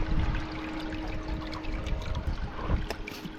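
A water pump in a worm bin bubbles and trickles continuously, a close, steady gurgling wash with a faint tonal hum underneath and no talking.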